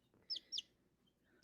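A Sarama hen gives three short, high chirpy clucks, two close together and one after a pause, faint and fairly close against a quiet background.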